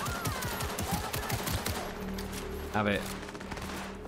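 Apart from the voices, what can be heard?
gunfire shot at player in video game Cyberpunk 2077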